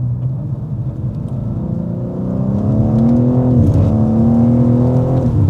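BMW M car engine accelerating hard, a deep rising rumble and whir building in pitch and loudness from the cabin, steady and close with no talk.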